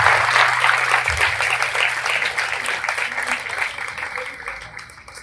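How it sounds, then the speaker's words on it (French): An audience at a communal school general competition ceremony in Yeumbeul claps in a sustained round of applause to welcome a speaker, loud at first and gradually tapering off over about five seconds. "nous allons accueillir le président du comité scientifique du COGEC, M. Mamadou Sylla, sous vos applaudissements."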